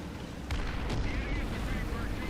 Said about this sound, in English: Someone's obviously spotted me since they're calling artillery in.